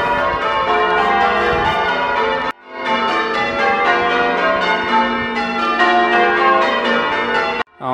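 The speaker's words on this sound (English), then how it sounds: "the bells are ringing for the festival that's taking place" Church bells pealing for a town festival in King's Lynn, Norfolk, a loud, dense, continuous run of overlapping rings with a brief break partway through.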